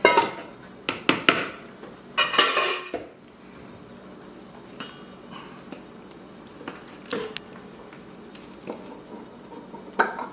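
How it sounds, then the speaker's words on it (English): Duck pâté scraped and moved into a cold bowl, with a cluster of sharp metal-and-bowl clatters at the start, then quieter scattered taps and scrapes spaced out afterward. "we're gonna move our pate here into a cold bowl"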